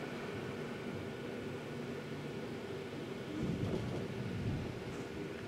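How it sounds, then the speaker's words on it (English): Thunder from a storm outside a building gives a low, muffled rumble that swells briefly partway through, under a steady hiss of background noise. "Thunder's rattling the building."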